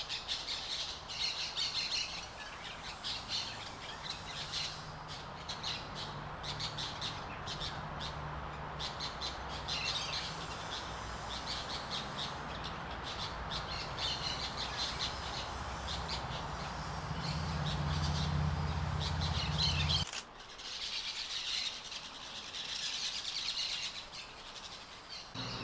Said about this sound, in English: A very noisy flock of orange-chinned parakeets was directly over my head.